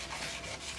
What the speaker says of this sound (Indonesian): buat amplas pakai 400 dulu.